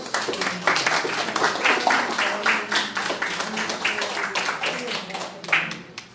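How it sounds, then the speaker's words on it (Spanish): An audience at a panel discussion on national competitiveness and productivity policy breaks into steady, dense applause that runs the whole few seconds and tapers slightly at the end, with some voices mixed in. "Un aplauso para todos"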